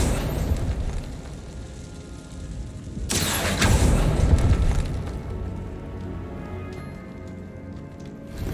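Confringo blasting curse detonating in Hogwarts Legacy, a sudden loud burst about three seconds in with a rumbling, crackling tail that fades gradually over a dim ambient bed.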